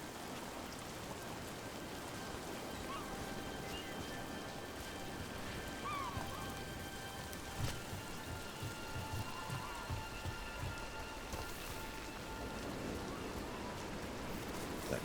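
Rain falling in the video game Dragon Age: The Veilguard, a steady soft patter on surfaces with scattered droplet taps, low and even throughout without talk.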